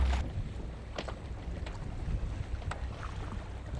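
Wind rushing steadily over a sailboat moving down a channel at slack current, a soft continuous broadband whoosh with faint low rumble and occasional light creaks or ticks, no talking.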